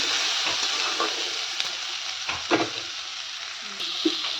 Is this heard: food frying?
yes